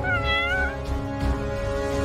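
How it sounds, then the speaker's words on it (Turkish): A cat gives a drawn-out, wavering meow close by, followed by a second lower call, loud and clear with no talking. "Bir kedi."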